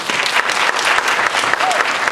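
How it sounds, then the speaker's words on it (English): Loud audience applause fills a Black History Makers celebration honoring Malcolm X: dense, steady clapping from a crowd that runs unbroken throughout. "Let's give them a round of applause."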